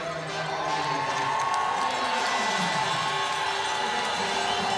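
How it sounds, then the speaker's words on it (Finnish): Spectators at the finish of a Nordic combined race at Lahti's Salpausselkä cheer and whoop continuously for a home-village skier, a dense, loud crowd roar throughout. "Yleisö nousee täällä seisomaan ja osoittaa suosiotaan"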